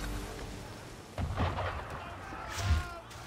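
Ship cannon fire in Assassin's Creed 3 at sea: two deep booming blasts a little over a second apart, rumbling and fairly distant, over a constant wash of wind and water.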